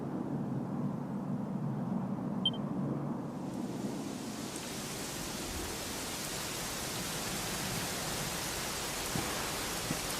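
Steady rain pours in Dragon Quest XI, a broad, even hiss that swells after a quiet opening with a faint low voice, then holds loud and constant, with occasional low rumbles.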